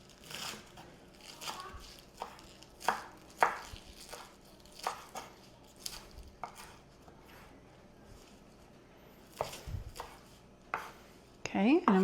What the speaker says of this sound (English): roll it together so that we can just chop it coarsely